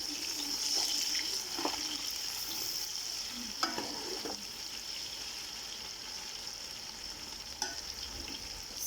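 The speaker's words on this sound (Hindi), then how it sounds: "सरसों के तेल को प्याज के साथ ज़रूर भूनना ताकि सरसों के तेल की जो महक है वो ख़त्म हो जाए।" Onions frying in a generous amount of hot mustard oil, a continuous bright sizzle with occasional clacks of a stirring spoon against the pot, close and even.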